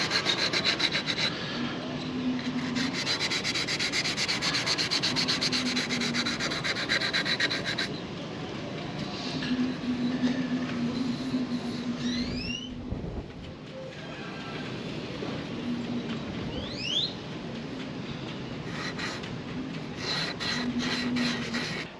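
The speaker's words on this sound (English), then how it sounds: "First thing I did was went outside and hand sanded out all that epoxy work that we did yesterday." Hand sanding of cured epoxy work outdoors, a steady, close rasping scrub of continuous strokes with brief pauses, and faint bird chirps in the background.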